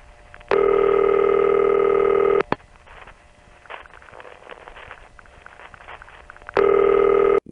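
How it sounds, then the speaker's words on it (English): A telephone ringback tone from the regular phone network sounds twice as long, loud, steady bursts, separated by a quieter gap of line noise and faint rustling. "But this ringtone is like something from the regular part of the phone network."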